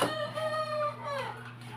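A rooster crows once in a long drawn-out call, fairly close, over a steady low hum.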